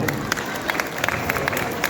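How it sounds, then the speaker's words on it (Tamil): An audience at a Pongal festival debate event in Manchester applauds: dense, continuous clapping from a crowd, steady and fairly loud throughout. "அவங்களுக்கு நம்மளுடைய பலத்த கைத்தட்டலை கொடுத்துருவோம்"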